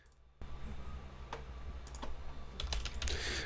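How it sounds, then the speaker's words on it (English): Keys clatter on a computer keyboard in a few scattered taps and then a quicker, closer burst of typing over a low steady hum. "I was typing something"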